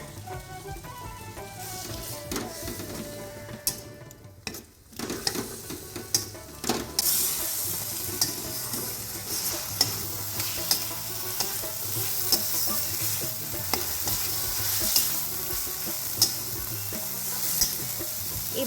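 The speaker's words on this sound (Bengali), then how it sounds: "এই সামান্য জল দিয়ে মশলাটাকে কিছুক্ষণ কষার পরে এর মধ্যে আলু দিয়ে আবার কিছুক্ষণ কষতে হবে।" Spice paste and potatoes sautéed in a pan for a Bengali potato cauliflower fish curry: a steady sizzle with repeated scraping and clinking of a spoon stirring through the mix, louder after the first few seconds.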